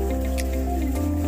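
Cut fish pieces are washed in water by hand, giving soft wet squishes and sloshing close up over a steady low background hum.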